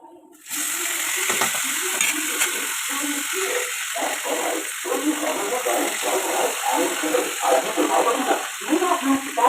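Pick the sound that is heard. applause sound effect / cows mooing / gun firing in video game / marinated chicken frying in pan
marinated chicken frying in pan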